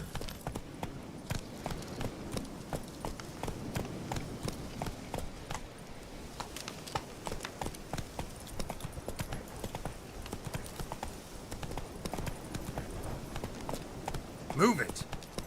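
A horse gallops across open ground in The Witcher 3: Wild Hunt, its rapid, even hoofbeats pounding steadily throughout at close range, with a voice speaking faintly now and then.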